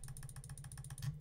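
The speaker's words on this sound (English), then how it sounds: "We have high speed engines. It's noisy." High-speed engines in a video game drone with a steady, noisy mechanical hum and faint pulsing texture, continuous and fairly quiet, with no talk over it.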